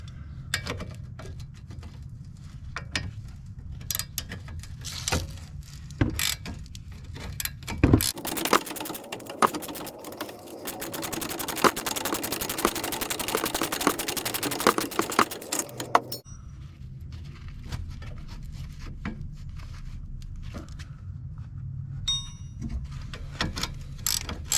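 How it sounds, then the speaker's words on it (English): A ratchet wrench works a sway bar link on a Chevy Sonic, its fast clicking strokes coming in close, steady runs, with a louder stretch of continuous mechanical noise in the middle. "Now I'm gonna use my ratchet wrench."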